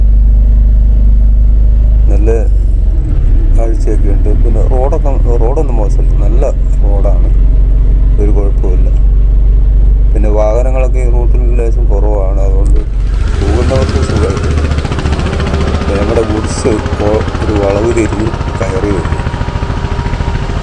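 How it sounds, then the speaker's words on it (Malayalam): Goods auto-rickshaw engine on a ride to Kozhippara waterfall near Nilambur: a steady, loud, low rumble runs throughout under voices talking, growing harsher and brighter partway through. "ഞങ്ങൾ ഗുഡ്സ് ഓട്ടോയിലാണ് പോകുന്നത്"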